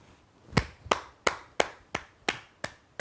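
Seven sharp, evenly spaced claps in a slow, steady rhythm, each loud and crisp with a quick decay, close by and alone at a classroom-style quiz.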